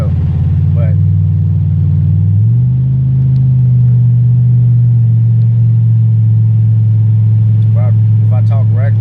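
Loud, steady low drone of a 2006 Chevrolet Impala SS LS4 V8 heard from inside the cabin while sitting in the car, with a slight pitch shift partway through and brief faint vocal sounds over the engine.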